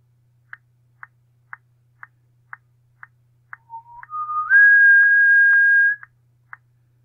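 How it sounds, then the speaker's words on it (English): Steady metronome clicks at an even pace, with a person whistling a rising series of sustained notes over them midway. "I just use a whistle there"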